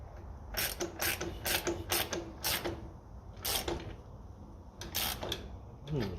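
A 3/4-inch spanner works a nut on the fuel system of a 1955 Ferguson 20 TEF diesel tractor, producing close, sharp metallic clicking bursts in quick repeated strokes with short pauses between them.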